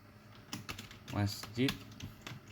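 Fingers tap out a short burst of keystrokes on a computer keyboard while typing in Microsoft Word, a few quick, light clicks close by and fairly quiet, with no talk over them.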